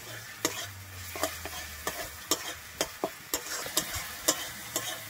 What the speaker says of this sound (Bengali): আমি চিনিটা দিয়ে একটু ভালোভাবে মিশিয়ে নিচ্ছি